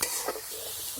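Fried masala with chopped tomato is stirred in a pan, giving a brief close scrape and a soft, steady frying sizzle.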